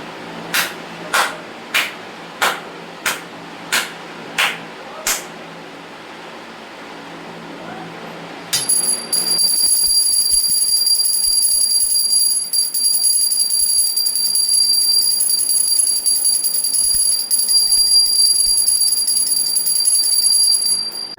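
A hand bell rings eight times in a steady rhythm, then falls silent before a loud, high continuous electronic tone takes over.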